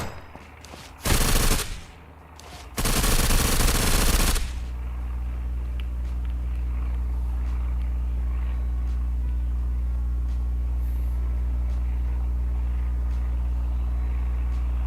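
Gunfire in the Surroundead video game: two loud, dense bursts of rapid shots, the second longer, followed by a steady low engine-like drone.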